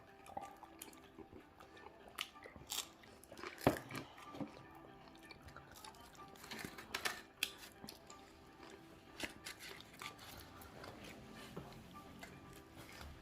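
Someone eats a Korean lettuce wrap (ssam) topped with ssamjang, giving soft, irregular crunching and moist chewing clicks close to the mouth across several seconds, fairly quiet with occasional sharper bites.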